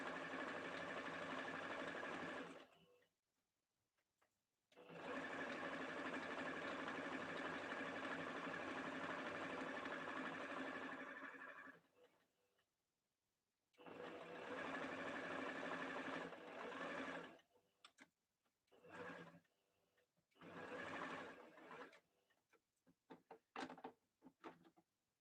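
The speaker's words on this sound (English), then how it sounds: "So I'm just going to stitch that straight across." A sewing machine runs a straight stitch across turban fabric in long steady whirring runs, pausing briefly between them, then ending in a series of shorter bursts.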